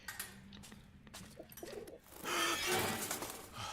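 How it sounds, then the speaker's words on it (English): A pigeon coos in a horror video game set in the trenches, a soft throaty call heard near and moderately loud amid shuffling game ambience, rising into a louder burst toward the end. "Jump scare from pigeon."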